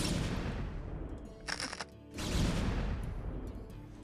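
StarCraft siege tanks firing in a Protoss versus Terran battle, dense overlapping booms and bursts of fire that dip briefly before a fresh loud volley, with no voices.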